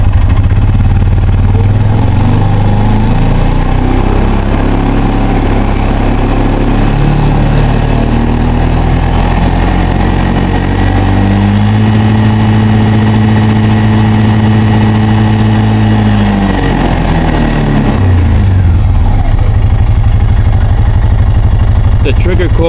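An Arctic Cat 366 snowmobile engine idles loudly up close, then revs up and holds high speed until the rev limiter cuts in. It drops back to a rough idle.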